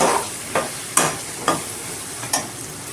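Drumstick pieces stir through a sizzling masala of chilli powder, green chillies and dried red chillies in one pot, with about five distinct spoon strokes scraping over a steady close frying hiss.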